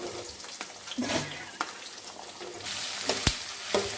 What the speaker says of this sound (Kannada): ಚೆನ್ನಾಗಿ ಫ್ರೈ ಮಾಡಿಕೊಳ್ಳಿ ಇವೆಲ್ಲ ಹುರಿದ ನಂತರ ಉಳ್ಳಾಗಡ್ಡಿಯನ್ನು ಹಾಕಿಕೊಂಡು